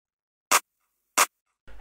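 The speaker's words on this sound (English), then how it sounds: "This is what the clap sounds like." Two sharp, harsh clap drum-machine hits from an FL Studio beat, evenly spaced and isolated against silence, with a voice starting right at the end.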